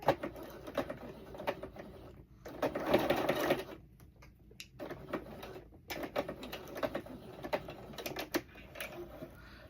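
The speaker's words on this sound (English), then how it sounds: "so I have my 2 lines sewn" A sewing machine runs rapid stitching bursts over two lines, a fast mechanical chatter broken by short pauses, close and fairly quiet with no talking.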